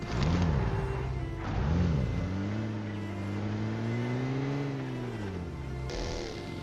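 A car in the battle royale game PUBG Mobile drives along with a steady engine drone that rises and falls slightly as it revs. A couple of short bumps come near the start and a sharper noise comes at the end.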